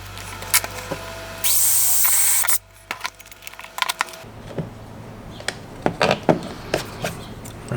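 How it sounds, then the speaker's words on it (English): A power drill bores a hole for mounting a brake controller, with a short, loud burst of whirring drilling followed by scattered clicks and handling knocks of tools and parts nearby. "we'll drill our second hole right here"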